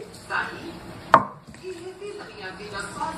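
A knife chops through sausages on a board, one sharp cut standing out among softer kitchen clatter while people talk nearby.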